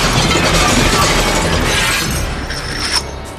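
Glass shattered by gunfire in the action film Die Hard: a loud, sustained crashing cascade of breaking glass that thins into scattered tinkling shards, with no voices.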